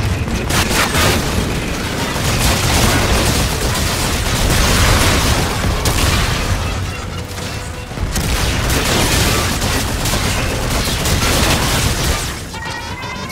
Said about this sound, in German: ich weiß nicht, welche explodiert, aber irgendeiner explodiert hier andauernd